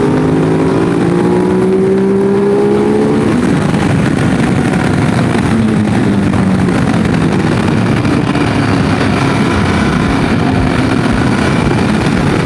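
A Ducati DesertX motorcycle rides and accelerates on the road, its engine note climbing and shifting through gears under steady loud wind rush, heard close up without talk.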